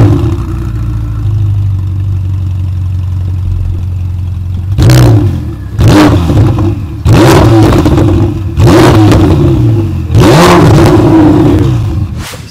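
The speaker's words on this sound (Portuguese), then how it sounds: "vamos ouvir o som deste twin turbo incrível que aqui está" Ferrari 488 Pista twin-turbo engine at idle, then revved hard several times in a row, each loud blip rising and falling back, heard close with no talking.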